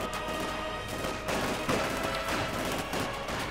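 MG42 machine gun fire in Company of Heroes 2 rattles in dense overlapping bursts, mixed with other battle gunfire and impacts in a busy, loud wartime skirmish.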